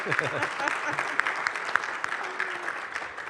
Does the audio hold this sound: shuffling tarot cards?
no